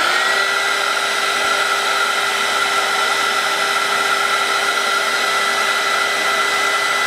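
A heat gun or hair dryer blows hot air steadily and loudly for the whole stretch while DIY bling makeup brushes are crafted, a constant whooshing roar with a steady whine and no voices.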